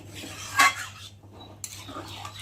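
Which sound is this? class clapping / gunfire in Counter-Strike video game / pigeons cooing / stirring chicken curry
stirring chicken curry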